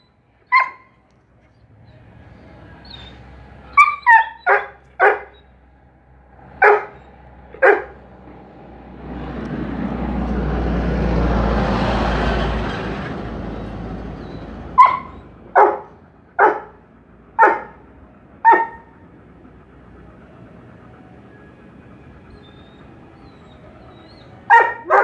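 A dog barks in short, sharp bursts heard through a played video, several spaced yips and barks separated by a stretch of broadband rushing noise, fairly loud with no talking.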